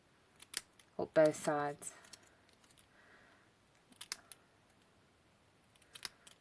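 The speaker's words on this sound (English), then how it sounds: "get your snips, and you just want to cut just a little wedge" Snips cutting a small wedge into a box strip for a Christmas table ornament, a few faint close clicks and snips around a short stretch of speech.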